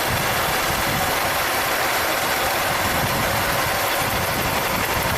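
A supercharged V6 in a 1995 Buick Riviera idles with a cylinder misfire, giving a steady, dense running drone at close range with no pauses.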